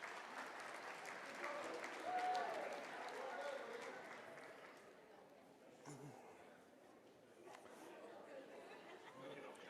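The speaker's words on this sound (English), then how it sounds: "let's give them all a round of applause." Audience applause and crowd chatter at a school district opening convocation, moderately distant and soft, with voices murmuring throughout and the clapping fading to a lower hum of talk.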